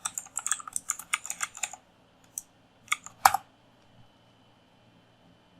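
Someone types a password on a computer keyboard. A quick run of close, crisp key clicks comes first, then a few scattered taps after a pause, and then it falls quiet.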